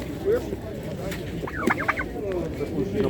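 Turkeys gobbling in bursts at a busy outdoor market, a rapid warbling call rising above a background of crowd noise and other fowl, moderately close.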